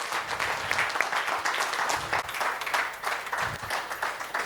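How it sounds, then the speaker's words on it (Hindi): A seated audience at an Indian sales distributors' award event breaks into sustained applause, dense crowd clapping that holds steady for several seconds with faint voices underneath. "उठकर ताली बजाइए, उठकर ताली बजाइए।"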